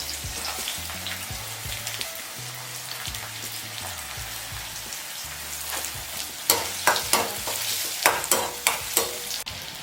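Chopped onions frying in hot oil for chicken Manchurian, with a steady sizzle and repeated scraping stirs that grow louder and sharper toward the end.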